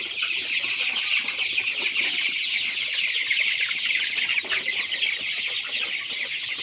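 A dense flock of farm chickens clucking and chattering continuously in a poultry house, a steady close chorus with no voices.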